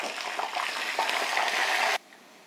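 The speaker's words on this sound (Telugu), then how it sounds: "చూడండి కరేపాకు వేగిపోయింది కదా." Dried curry leaves fry in hot oil for lemon rice, giving a loud, close, continuous sizzle with a little stirring. The sound stops abruptly near the end, and no one speaks.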